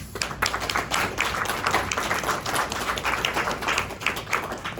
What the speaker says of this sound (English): I want to give all of you a round of applause.